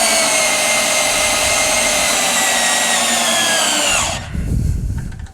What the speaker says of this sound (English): I'm gonna keep it on the 2 setting just to see how it drills.